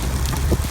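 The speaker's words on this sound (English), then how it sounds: "Pea-sized hail, here we come." Pea-sized hail batters a car during a storm, a dense, loud, continuous hiss of rapid impacts mixed with wind rumble.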